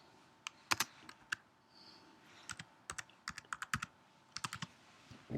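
Fingers type a name on a computer keyboard, a quiet close run of crisp key clicks in short irregular bursts with brief pauses between groups.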